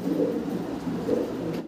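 A pair of black Lahori pigeons coo softly in low, rolling phrases, steady and close, with a faint background hum and no talking.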